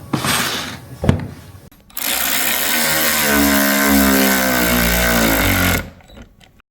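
Protmex cordless ratchet wrench driving a bolt, a loud steady motor whine with a rising gear drone lasting about four seconds after a couple of brief handling clicks, then cutting off.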